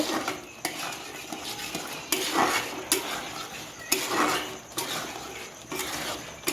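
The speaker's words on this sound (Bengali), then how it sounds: "এটা আবার আমি দিয়ে দেবো দিয়ে ভালো করে নেড়ে নেবো" Ground chilli, cumin, coriander and black pepper are being stirred in a pan, with a utensil scraping and clinking against the metal in repeated strokes, near and fairly quiet.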